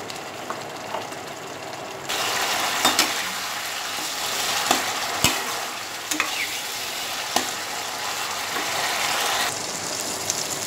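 Spice paste fries in plenty of oil with a steady sizzle that grows louder after a couple of seconds, punctuated by sharp spoon scrapes and taps as it is stirred.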